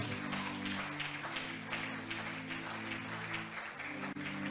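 A church congregation applauds in praise, a steady wash of clapping over a low sustained musical drone, moderately loud and continuous throughout.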